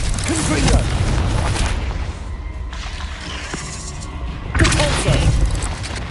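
Confringo fire-blast spell from the Hogwarts Legacy video game, going off loudly as a booming, crackling burst early on and again later, amid dense battle noise.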